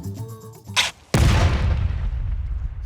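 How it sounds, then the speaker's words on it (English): An explosive charge detonates on a safe and blows the handle off: after a short quieter lead-in, one sudden loud blast hits and then rumbles and decays across the rest of the moment. "that was a pretty big explosion."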